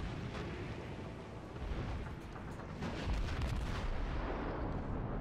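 Warship main guns firing in the World of Warships naval battle game, heavy booming blasts rolling into a dense rumble that swells louder toward the end.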